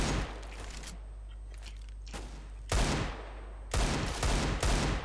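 Gunfire in a shooter video game, several loud bursts of rapid automatic shots separated by short gaps, sharp and close with no talk.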